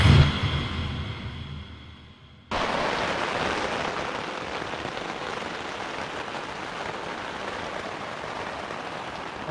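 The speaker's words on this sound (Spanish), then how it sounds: "Amaneció lloviendo" Steady, even hiss of morning rain falling on a ranch in the Huasteca Potosina, continuous and fairly close, after a brief muffled sound at the start.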